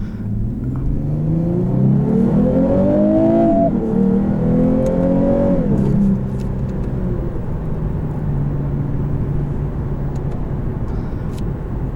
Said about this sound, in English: I still think this has one of the best induction notes